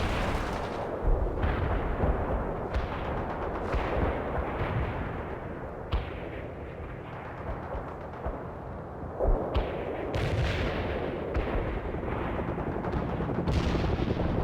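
In the game World in Conflict, a Soviet artillery barrage pounds a target with a run of heavy booming impacts. The deep blasts come roughly every second or two, loud and rumbling, with no one talking.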